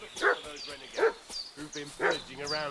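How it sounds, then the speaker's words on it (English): A dog in Kingdom Come Deliverance 2 barks in three or four sharp, evenly spaced outbursts, fairly close, with a voice talking alongside. "What's that dog making such a fuss about?"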